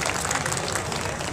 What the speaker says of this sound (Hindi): तो जोरदार तालियों से लक्ष्मण यादव जी का स्वागत किया जाए।